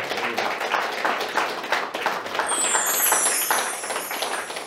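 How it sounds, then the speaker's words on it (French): A crowd applauds at a French political party congress, a dense, steady patter of many hands filling the hall, loud and continuous with no talk over it. "que vous pouvez applaudir"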